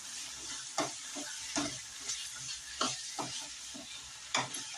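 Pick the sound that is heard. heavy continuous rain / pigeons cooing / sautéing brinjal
sautéing brinjal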